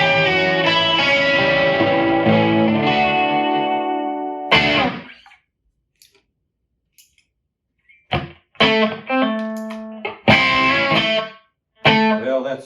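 Electric guitar played through a Mesa Boogie amp and Helix effects with overdrive and a light chorus effect, sustained distorted chords that ring out and stop, then short choppy stabs after a pause.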